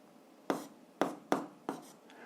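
Four quick, crisp pen strokes scratch across paper as a physics formula is written by hand, close and distinct against a quiet background.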